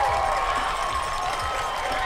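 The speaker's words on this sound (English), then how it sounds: "The Columbia crowd is letting them hear it right now." Home crowd of Columbia High School fans roars at a New Jersey boys' state championship game as their team ties it at 10; a broad, steady wall of cheering and shouting fills the arena, with a commentator's voice faintly underneath.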